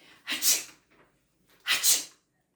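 A person imitates a sneezing dwarf, giving two loud, close, breathy sneeze sounds separated by a short pause, with a faint breath between them.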